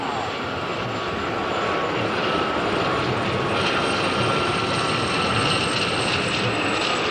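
Loud, continuous roar of two Gazelle helicopters' engines and rotors sweeping past in a high-speed pass at an air display, filling the whole clip, with a faint voice underneath.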